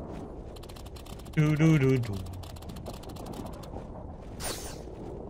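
Door locks in the Vanquish video game click and ratchet in a rapid mechanical stream, with a brief hummed vocal sound early on and a short hiss near the end.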